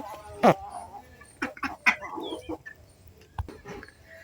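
Native village chickens cluck and squawk in short bursts close by, with scattered sharp calls over a quiet yard background.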